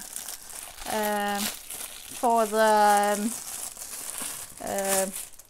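Packaging squeaks and crinkles in three drawn-out bursts, close and fairly loud, like foam or plastic being pulled apart.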